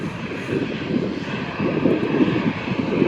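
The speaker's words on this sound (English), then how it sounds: "taxiing towards us is a Ryanair 737-800, which is the next generation 737" A Ryanair Boeing 737-800 taxiing at Manchester Airport produces a loud, steady jet engine roar with a rumbling low end, close by and sustained throughout, no voices.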